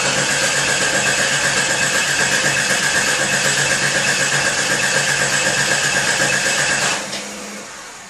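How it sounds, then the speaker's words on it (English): A 1989 Jeep Cherokee with the Renix 4.0L engine runs loud and steady close by, a dense even drone throughout that drops off suddenly near the end. "let me go ahead and see if I can get it to stay up and crank"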